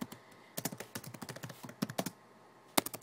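Bursts of computer keyboard typing, sharp close clicks in quick uneven runs separated by pauses, ending with a single louder keystroke, with no voices.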